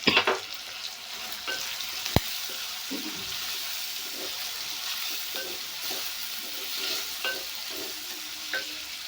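Chopped vegetables frying in a pan with turmeric for gongura dal, a soft continuous sizzle with occasional stirring scrapes and one sharp clink of a utensil near the start.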